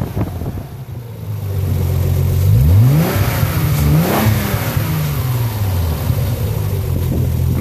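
A 1990 Nissan 300ZX Twin Turbo engine idling smoothly, then revved up sharply a few times with rising and falling roars, close and loud, settling back to a steady idle.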